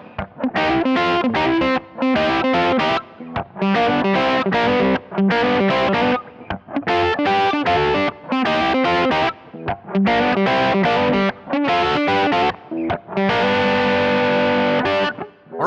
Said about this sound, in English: So that's just a simplified version of the riff you heard in the beginning. Let me play it for you with the 12 bar blues changes.